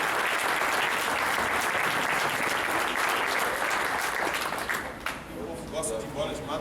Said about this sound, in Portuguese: Aplaude Jesus mais uma vez.